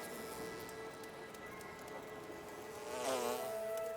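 Bees buzz near Ache people gathering honey in Paraguayan forest, a steady close drone with a louder pass swelling toward the end, no voices.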